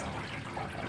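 Running water pours steadily over a dog bath brush as it is rinsed, a continuous close hiss and splash with no voices.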